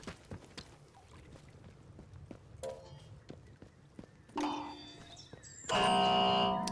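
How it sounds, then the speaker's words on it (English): An alarm in the Atomfall video game blares loudly and continuously over the final second, following scattered footsteps and clanks. "I've already set off the alarm"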